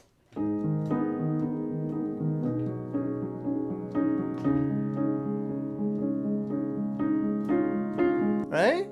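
Piano playing a slow sequence of sustained chords and notes, ending with a brief swooping effect.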